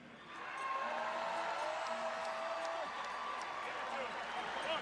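A large crowd applauds and cheers at a volleyball championship trophy presentation, a broad sustained roar of clapping and shouts swelling early and holding steady, with a voice speaking over it.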